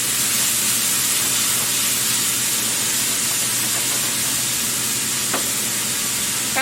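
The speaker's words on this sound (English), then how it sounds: "I'll give that a little stir, actually." Chicken stir fry sizzles steadily in a hot pan while being stirred, a loud, continuous close hiss with no talking.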